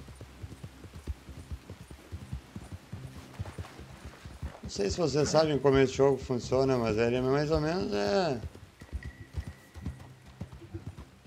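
A horse's hooves clip-clop softly in Red Dead Online under steady talking, with a brief burst of louder sound in the middle.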